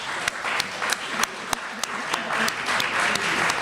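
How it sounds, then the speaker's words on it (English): Church congregation applauding a guest minister at a Religious Science service: steady, dense clapping from a sizable room throughout, with sharp louder claps popping out of the wash at regular intervals. "Let's give him another round of applause."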